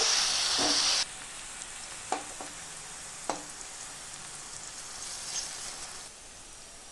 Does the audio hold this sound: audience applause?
no